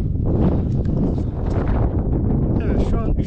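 Wind gusts across the north slope of Mount Ararat at about 3,200 metres, beside a large rock, buffeting the microphone in loud, rough rumbles while people talk nearby.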